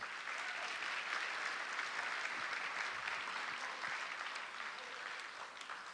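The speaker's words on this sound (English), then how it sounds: "Have another round of applause for those kids." An audience at a 2018 Republican gubernatorial candidates' event applauds a group of kids, a continuous wash of clapping from many hands that stays level throughout and tapers slightly at the end.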